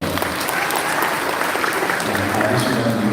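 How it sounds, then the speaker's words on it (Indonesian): A university lecture audience claps for a foundation chairman, a loud dense roar of applause filling the room continuously, with faint voices mixed under it. "Tepuk tangan untuk beliau."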